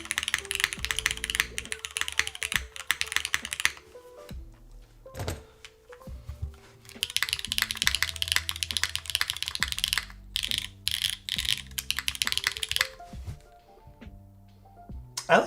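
Typing on a custom-built OF-1 60 mechanical keyboard, with dense bursts of clacky keystrokes in rapid runs broken by short pauses and a few heavier thocks, recorded up close.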